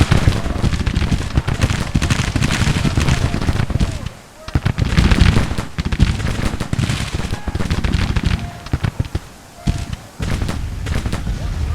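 Civil War musket and rifle volleys crackle in a Grand Tactician battle, a dense, loud, continuous barrage of overlapping shots that briefly thins twice before resuming at full intensity.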